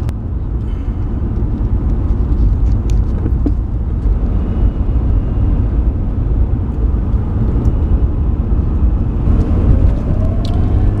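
A car drives away from Lake Barambit in Australia, its engine and tyre rumble steady and loud from inside the cabin, with occasional small knocks and clicks.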